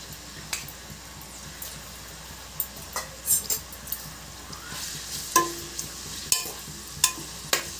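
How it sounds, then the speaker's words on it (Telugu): Onion sautés in hot oil and is stirred, a continuous soft sizzle broken by sharp metallic clinks and scrapes of the spoon against the pan, growing more frequent toward the end. "ఉల్లిపాయ బాగా మగ్గాలి."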